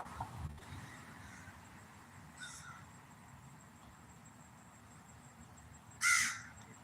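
A crow caws once outdoors, a loud close burst near the end, with a fainter call earlier over steady street background.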